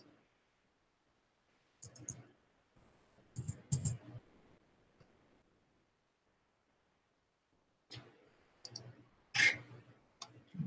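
A computer mouse clicks in scattered clusters of sharp, quiet taps separated by long silent gaps, recorded close at a desk.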